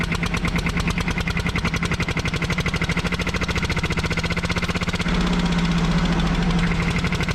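A single-cylinder tractor engine in Farming Simulator 25 thumps at a steady, rapid idle with evenly spaced beats, then shifts to a smoother, lower drone in the last couple of seconds.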